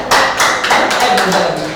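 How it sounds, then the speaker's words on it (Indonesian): Several people clap hands together in a room during an online-learning tutorial session, quick close claps in a short rhythmic burst, with talking mixed in. "Tepuk tangan dulu"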